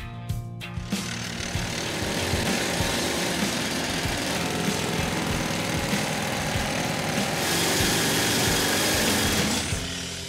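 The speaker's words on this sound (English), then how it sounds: "drill uses compressed air to strike the rock 800 times a minute" A compressed-air jackleg drill hammering rock in a gold mine, a loud, continuous rapid-fire pounding with a steady engine-like roar that runs for about ten seconds without speech.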